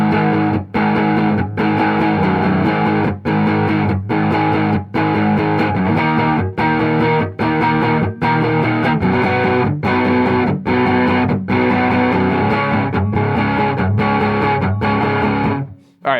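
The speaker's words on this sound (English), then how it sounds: "Here is the amp distortion." Electric guitar played through a guitar amp's built-in distortion, a loud, thick driven tone in chugging rhythmic chords with brief rhythmic gaps, playing a heavy verse riff without any talk.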